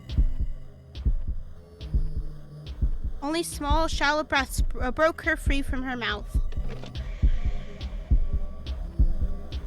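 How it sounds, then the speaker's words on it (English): Loud, heavy heartbeat pulses thud steadily throughout a tense scene in the horror game Pandora, with a narrator's voice speaking over the rhythmic throbbing in the middle. "The sound of her heartbeat was overwhelming, the intensity ringing through her ears"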